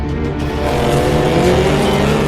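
Security cars roar in close pursuit with engines revving and tires squealing, a loud continuous mix of engine drone and skidding rubber that fills the whole stretch without talk.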